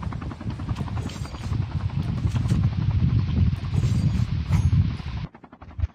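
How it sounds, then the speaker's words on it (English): A helicopter in a mobile battle royale shooter played on an emulator thrums with a loud, steady rotor chop close by, then cuts off abruptly near the end. "Helicopter."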